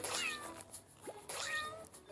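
Two clear, high-pitched video game cat meows, one right after the other, bright and close, with short pauses between them.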